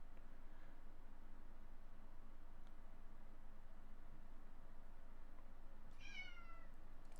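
A cat gives one short meow close to the microphone in an otherwise quiet room, heard over a steady low hum.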